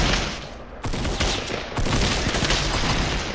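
Rapid shotgun blasts in a Fortnite firefight, a dense burst of loud, overlapping shots with a brief gap before firing resumes close and heavy.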